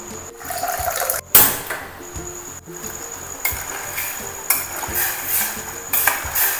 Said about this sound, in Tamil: இந்த வெல்லத்தை வந்து ஆட் பண்ணுறேன். 1/4 கப் தண்ணி சேர்க்க போகிறேன்.